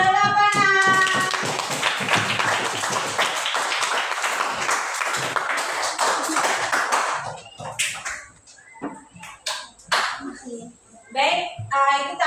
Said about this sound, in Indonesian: Beri tepuk tangan dulu untuk saudara Pana.